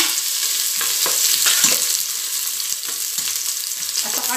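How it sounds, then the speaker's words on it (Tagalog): Onion fries in hot cooking oil in a pan with a continuous close sizzle, broken now and then by soft stirring scrapes. "Fry tayo ng onion."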